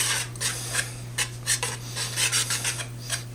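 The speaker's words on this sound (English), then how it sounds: "just whisk this together" Dry ingredients such as baking soda, baking powder and salt being whisked together in a bowl for red velvet gobs, a close series of quick scratchy rasping strokes in bursts over a steady low hum.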